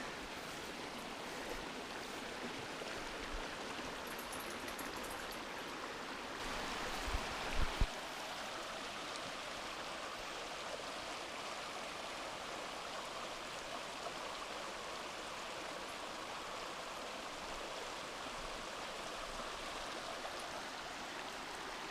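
A small creek runs through low-lying land beside a trail, its water flowing in a steady, continuous broadband rush with no voices, close and even throughout, one brief knock partway through.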